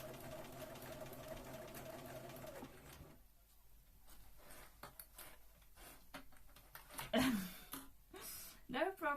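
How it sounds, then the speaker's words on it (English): A sewing machine runs at a steady whirring, rhythmic pace while a Regency dress is sewn, stopping after a few seconds; then scattered handling clicks and a voice follow. "It's because I've started sewing, that's why."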